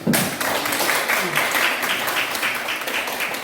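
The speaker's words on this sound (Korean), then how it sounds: "그렇게 큰 박수 한번 부탁드립니다." An audience at a poetry lecture breaks into loud, sustained applause, dense clapping close by that carries steadily through the moment.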